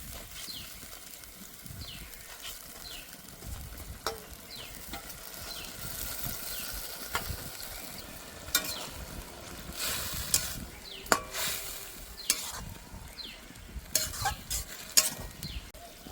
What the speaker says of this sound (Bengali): জল ভালো করে ফুটে গেছে, এবার দিয়ে দেব শাক।